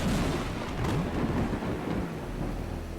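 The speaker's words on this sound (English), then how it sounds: "No, we're getting a storm, even worse." Thunderstorm in the Dusty Trip video game, a continuous loud rumble of thunder with rain-like hiss filling the whole stretch, no voices over it.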